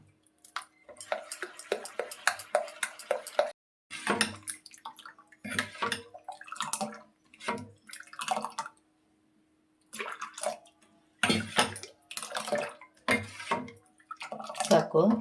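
Neer dosa batter is mixed by hand with water in a bowl, producing repeated wet sloshing and squelching bursts with short pauses between them, fairly close and moderately quiet.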